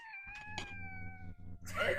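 A house cat lets out a long, drawn-out meow that wavers and fades, followed by a brighter, harsher second cry, close to the listener indoors.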